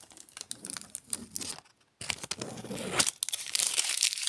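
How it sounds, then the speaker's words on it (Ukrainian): Crinkly parchment paper peels and rustles up close in uneven bursts, with a brief quiet gap in the middle. "Цей пергамент так файно віддирається, мені дуже подобається."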